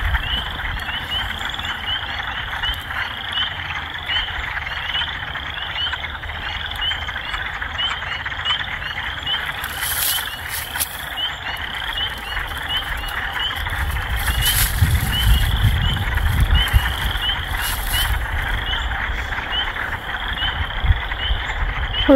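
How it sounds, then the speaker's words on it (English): A chorus of frogs croaks steadily outdoors in a dense, pulsing trill, with a low rumble swelling partway through and a few brief louder bursts. "let's not get the little froggies"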